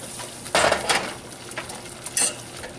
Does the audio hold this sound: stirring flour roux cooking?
yes